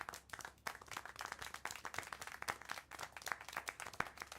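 Rapid hand clapping from a character in the video game Syberia: The World Before, a steady run of sharp claps close by, filling the whole stretch without speech.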